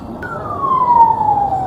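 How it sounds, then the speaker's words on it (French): Siren likened to an American ambulance siren, heard outdoors in Spain near Teruel: a single long descending wail sliding down in pitch over a steady low rumble, moderately loud and alone. "On dirait vraiment les ambulances américaines."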